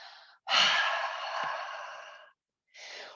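A deep, breathy exhale through an open mouth during a yoga breathing exercise, long and close, bracketed by softer breaths before and after.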